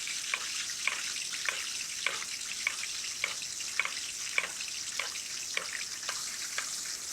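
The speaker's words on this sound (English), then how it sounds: "You notice I like to do this basting. It helps accelerate the cooking process." Sole fish sizzles in a hot pan while being basted, a steady bright frying hiss broken by soft regular spoon taps roughly every half second, with no talking.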